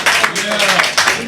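Audience at a stand-up comedy show claps briefly, a dense burst of applause lasting about a second, loud and close with a talking voice over it.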